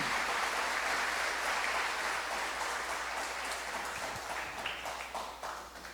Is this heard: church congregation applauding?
yes